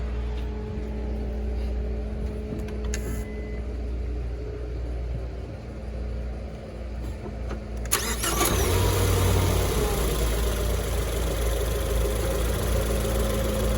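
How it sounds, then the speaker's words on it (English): A car engine cranks and catches, then settles into a steady idle; a low hum runs for several seconds before the start, and the idle rumble is louder and broader afterward, with no talking. "Go ahead and turn the car on."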